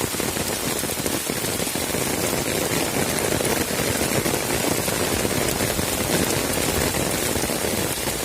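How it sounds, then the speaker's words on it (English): Heavy rain pours down in a dense, unbroken hiss of drops pattering on surfaces, loud and close, steady throughout with no letup. "It's really heavy raining."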